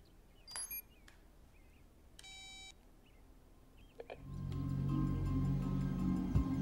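Phone beeping in a film scene: a few short electronic beeps and a sustained tonal chirp over quiet ambience, followed by a swelling low rumble that grows loud.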